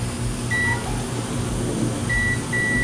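A multimeter sounds short continuity beeps while probing a laptop board during an LED/LCD backlight repair, a few brief high tones at intervals over a steady hum of room and fan noise, with no talking.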